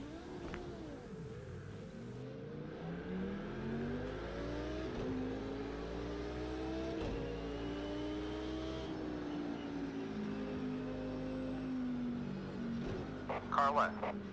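A GT3 race car engine in Project Cars 2 at Circuit of the Americas drones steadily through a formation lap, its pitch rising and falling with shifts, with a voice talking over it throughout.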